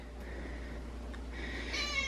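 Cats meowing after arriving in a new home: faint, distant mews rising near the end over a quiet room hum, with no talking.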